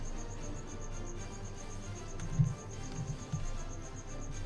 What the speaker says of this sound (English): including her noisy crickets, which are going right now